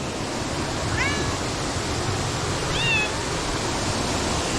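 A couple of short cat meows sound at a distance over a steady rushing background noise, in a home in Morocco's Rif Mountains.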